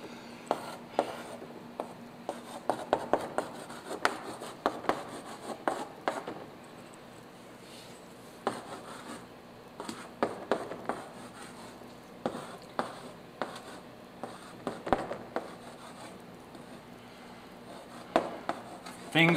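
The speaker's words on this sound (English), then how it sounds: "let me write some stuff on the board." Marker or chalk writing on a board during a church teaching session, with irregular taps and scratchy strokes scattered through the quiet.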